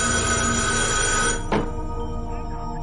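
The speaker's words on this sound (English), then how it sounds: "The ringing sound of telephone and sound of a moving clock is making him go crazy." A telephone bell ringing in a short film, loud continuous trilling that cuts off abruptly about halfway through, followed by a quieter room tone with faint ticking.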